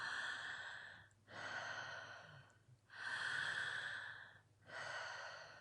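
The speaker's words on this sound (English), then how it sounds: "Just keep breathing through it." Slow, deep breaths during a guided breathing exercise, four long airy strokes alternating in and out with short gaps between them, close and soft, with no talking.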